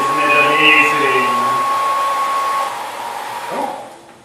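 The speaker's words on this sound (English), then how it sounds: "Now for a variation on my hair dryer experiment." A hair dryer blows steadily at close range for several seconds in a flight demonstration with floating toilet paper, its whirring hum holding even before tapering slightly near the end.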